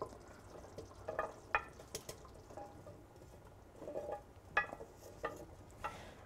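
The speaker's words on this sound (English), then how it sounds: "So I'm just mixing in all of that sweet potato and carrot now" A spoon works sweet potato and carrot through a lamb curry hotpot in a stock pot, giving soft, scattered scrapes and a few light clinks at irregular intervals, close but fairly quiet.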